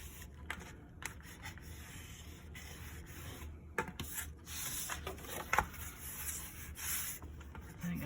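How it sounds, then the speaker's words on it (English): Paper is being folded and burnished by hand for a mini album cover, the crease pressed down into a 1/4 inch strip. Faint, steady rubbing and scraping strokes run close to the microphone over a low background hum. "I'm going to start by folding and burnishing that 1/4 inch"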